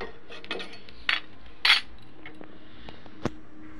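Dry-fried whole spices, including fennel and fenugreek, are tipped from a pan into a bowl while making a jujube pickle, giving a few faint scattered clinks and light rattles in a quiet kitchen.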